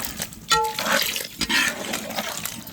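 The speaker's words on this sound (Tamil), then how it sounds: "இந்த மசாலா தண்ணி அப்படியே அதிலே சேர்த்துடணும்." Masala water poured into a Chettinad jackfruit curry, a brief splashing pour of liquid with sloshing bursts, close and moderately loud, no talking.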